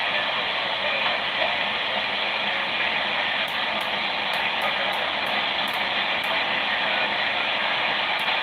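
A train rolls past in a steady, loud broadband rumble that holds for several seconds with faint clicks of wheels on track joints, heard alone without talk.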